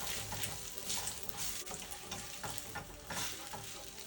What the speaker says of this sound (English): add a few tablespoons of the pasta water to deglaze the pan